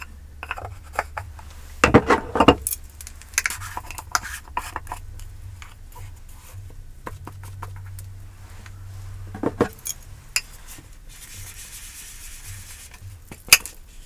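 Innisfree setting powder handled and applied in close, soft detail: scattered light taps, clicks and rustling brushes, with a few sharper container knocks and clatters spread across the stretch.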